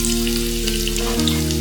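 Cumin seeds, hing, sliced garlic and curry leaves sizzle steadily in hot cooking oil over a medium flame, a close, continuous crackling fry with no pauses.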